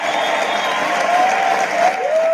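Audience applause at a live stage event about spiritual mediums, a steady wash of clapping from a crowd lasting a couple of seconds.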